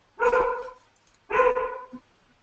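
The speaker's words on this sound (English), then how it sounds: "Sorry about the dog guys." A dog barks twice indoors, two loud, close, separate woofs about a second apart, followed by a short soft yip, with a quiet room around it.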